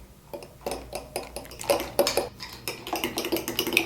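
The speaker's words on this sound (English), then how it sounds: "just whisk that together until it's completely smooth" A whisk beats a molasses mixture in a bowl for gluten-free banana bread, giving quick rhythmic clinking strokes against the sides that grow a little louder and faster, close by and without voices.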